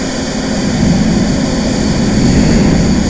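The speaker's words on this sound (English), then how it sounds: "On planes with afterburn, turning the burn parameter to +1 gets you an afterburn sound." A synthesized jet engine with afterburner gives a loud, steady roar with a broad rushing hiss and a deep rumble, holding constant without pause.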